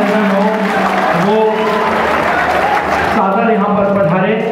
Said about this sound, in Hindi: जोरदार तालियों के साथ उनका पुनः अभिनंदन हो